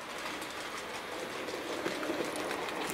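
Hornby Class 08 R3343 model shunting locomotive running on a tight radius 2 curve, giving a steady close whirring motor hum with faint rapid clicking from the wheels.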